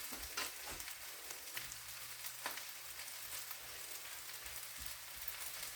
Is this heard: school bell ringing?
no